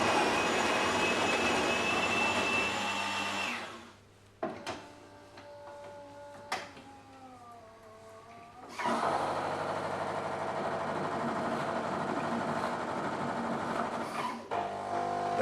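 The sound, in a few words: Melitta Caffeo Barista TS coffee machine grinding coffee, running dry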